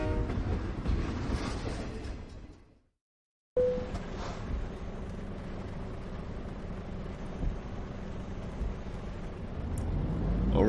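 Train ride in Euro Truck Simulator: a steady rumbling rolling drone of the carriage with a brief dropout of silence partway, then the rumble returns and swells slightly toward the end, no talking.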